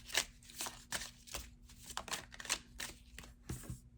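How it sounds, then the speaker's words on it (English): Tarot cards being shuffled close up, a quick series of crisp riffling and slapping bursts in an uneven rhythm, quiet with a faint steady hum beneath. "People like to watch the cards be shuffled and, you know, pulled out in front of them"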